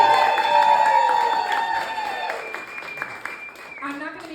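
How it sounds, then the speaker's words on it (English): A comedy-show audience claps and cheers at a loud level, with a tonal sweep cutting through, then the noise fades toward the end as a voice comes in. "Big round of applause for me."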